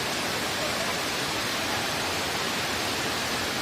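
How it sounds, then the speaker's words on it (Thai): Water pours down a sculpted waterfall at Ratchathani Asoke in Warin Chamrap, Ubon Ratchathani, a dense unbroken rushing hiss that stays loud and constant throughout. "มีน้ำตกผาแงน นี่ครับ"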